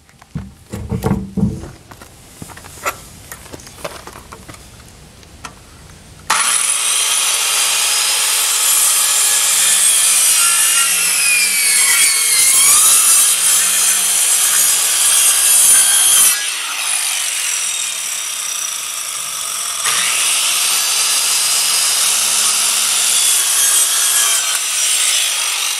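A handsaw cuts steadily through wood while framing a porch for roof trusses, with some scattered knocks and rustling first, then about twenty seconds of loud, continuous rasping strokes close by, briefly pausing midway.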